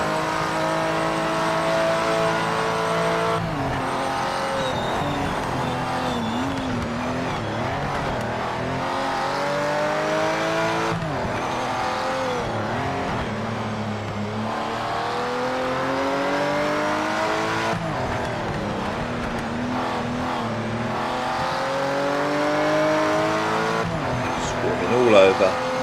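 A race car lapping a track in the Project Motor Racing game, its engine revving up and down through gear changes in long rising sweeps, with a person talking over it.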